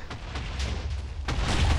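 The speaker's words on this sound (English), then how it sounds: "One last TNT explosion." TNT explodes in the Minecraft video game, a short burst of broad rumbling booms and crackle at moderate loudness that swells again near the end.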